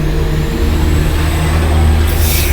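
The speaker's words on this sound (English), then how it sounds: "I don't know if you hear a big truck going by or not" A big truck passes close by, a loud, steady low engine rumble filling the whole moment, with a brief hiss near the end and no talking.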